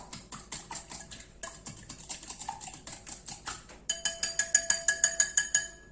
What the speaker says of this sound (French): Donc je vais mélanger un peu les jaunes.